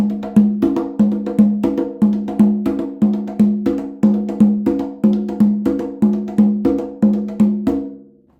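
Conga and tumba played by hand in a steady repeating four-beat pattern alternating low and high drum tones, crisp close strikes with ringing resonance, ending as the last hits decay.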